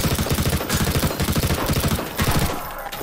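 Rapid bursts of automatic gunfire in the Half-Life 2 mod Swelter, loud and close, rattling in a fast steady rhythm for a few seconds before breaking off.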